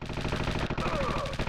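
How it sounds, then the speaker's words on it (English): Rapid automatic gunfire rattles in a dense, continuous burst in the video game Danger Girl, loud and close, with a faint voice underneath. "I'm hearing gunfire."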